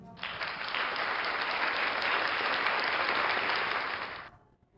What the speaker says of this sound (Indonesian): Sekali lagi beri tepuk tangan untuk kelompok 2.